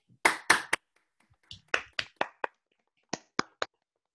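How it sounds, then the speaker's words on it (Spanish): A handful of scattered claps at a Spanish-language teaching conference session: a few sharp close hand claps in short bursts, separated by silent gaps, rather than a full crowd ovation. "pues les vamos a dar también un aplauso"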